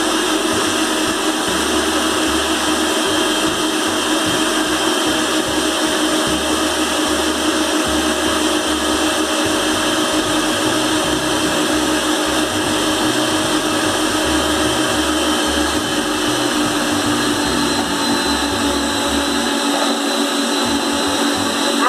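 An electric mixer beats cornmeal cake batter for a homemade fubá cake with a steady, loud, unbroken whirring drone that holds the same pitch from start to finish.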